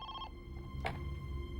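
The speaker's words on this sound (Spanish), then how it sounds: "más de 2 horas después de secuestrar a Amy, el teléfono al fin sonó" A telephone rings with a short electronic tone burst, then goes quiet under a steady low background hum, followed by a brief click like a handset being picked up.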